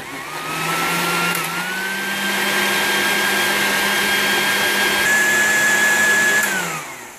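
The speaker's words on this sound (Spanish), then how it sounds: "vamos a empezar a licuar" A steady motor whine with a sharp pitch rise as the blades start, holding a constant high drone before winding down at the end; a blender running loudly and continuously, blending vegetables.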